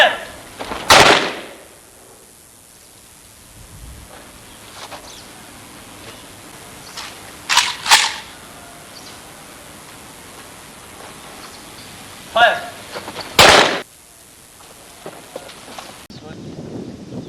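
Gunfire during commando firing training: several sharp, loud reports crack out in irregular bursts, some in quick pairs, across a quiet outdoor background, with voices heard speaking between the shots.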